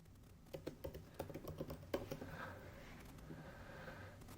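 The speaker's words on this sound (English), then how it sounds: "let's type in a password" Light typing on a computer keyboard to enter a password, a short run of quick soft key clicks fading into quiet room tone.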